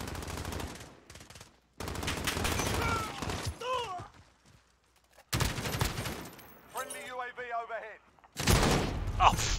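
Gunfire in a Modern Warfare shooter game, loud bursts of rapid automatic shots broken by short pauses, with a player's voice talking over parts of it.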